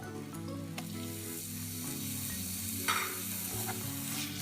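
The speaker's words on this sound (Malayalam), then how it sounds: "ഇതും കൂടി ഇതിൽ നന്നായിട്ടൊന്ന് മൂപ്പിച്ചെടുക്കാം" Ginger paste fries with spice powders in a pan for a Kerala-style beef brain kuruma, a steady close sizzle with soft stirring scrapes running continuously.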